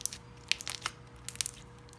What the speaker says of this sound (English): we are going to make this into a super crunchy slime because we like crunchy slimes